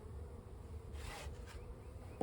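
Honeybees buzz steadily around a hive during a spring inspection, a constant close hum that swells briefly midway, ending with a soft knock.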